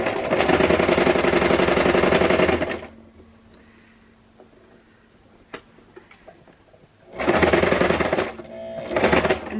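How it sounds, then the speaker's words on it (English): A sewing machine stitches along the edge of a cloth face mask in two loud, rapid bursts of whirring and clattering, separated by a quiet pause with faint clicks and handling noises. "I'm going to try to turn it a little and sew the edge, and just keep sewing all the way to the end"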